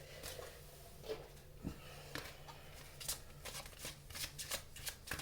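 Tarot cards are shuffled close by in a run of soft, quick riffles and flicks with small gaps between them, faint against a low background hum and with no voice over the shuffling.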